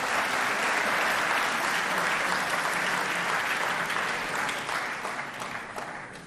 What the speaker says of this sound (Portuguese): recebam com enorme aplauso o próximo palestrante desta noite, Ivo Silva.